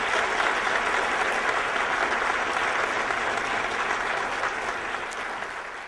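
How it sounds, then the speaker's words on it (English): An audience applauds donors at a Ron Paul event with a dense, sustained burst of clapping from a large crowd, steady and loud before tapering slightly at the end. "if we could have a big round of applause for them"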